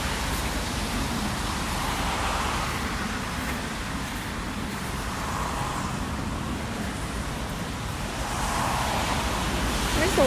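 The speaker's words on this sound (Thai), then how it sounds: "คลื่นแรง" Heavy ocean surf at Naksan Beach in Korea after rain, waves crashing in broad repeated swells over a constant loud roar of churning water, with slight wind buffeting and no talk.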